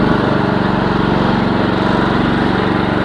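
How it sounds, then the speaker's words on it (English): A small Briggs & Stratton engine on a Chinese mini excavator runs steadily and loudly up close, a continuous, even chugging drone with no break across the whole stretch. "Sitting on my little Briggs & Stratton motor. And then once you turn it on, that gives you your gauges. And just fire it up."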